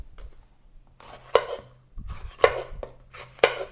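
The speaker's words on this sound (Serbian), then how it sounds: "Sada ću iseći 3 očišćene paprike." A knife chops through three peeled bell peppers on a cutting board, cutting them into large chunks. Three sharp, distinct strikes land about a second apart, with softer slicing and rustling in between.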